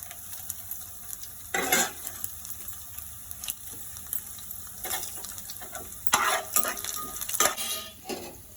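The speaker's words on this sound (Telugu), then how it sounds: "వేపిన తర్వాత తీసేసుకొని తాలింపు సరుకు వేసుకోవాలి." Tempering spices in oil sizzle softly in a pan while bursts of louder crackling and stirring clatter come and go, close by with no talking.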